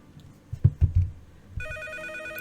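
A telephone in the Nancy Drew: Treasure in the Royal Tower video game starts ringing with a steady electronic trill after a few dull thumps, loud and close, with no talking.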